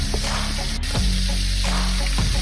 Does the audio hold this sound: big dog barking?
no